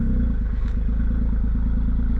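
A small kei car engine runs just after starting, a steady low idle with a rapid, slightly uneven putter, close and loud with no voices.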